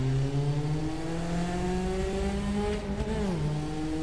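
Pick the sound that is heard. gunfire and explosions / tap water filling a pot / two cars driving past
two cars driving past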